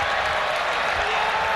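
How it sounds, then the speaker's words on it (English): A packed football stadium roars before kickoff of the 2012 Big Ten Championship game between Nebraska and Wisconsin, a loud, steady wash of cheering and applause from a distant crowd. "The crowd is excited."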